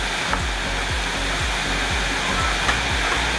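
Capsicum, vinegar, red chili sauce, tomato ketchup and dark soy sauce fry in a pan for Manchurian, giving a loud, continuous hissing sizzle with a faint low rhythmic knocking underneath, with no voices.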